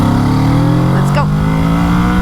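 A 2020 Kawasaki Ninja 650 motorcycle rolls on the throttle through a gentle corner, its engine note holding steady and loud up close, mixed with wind rush and a brief chirping sound midway.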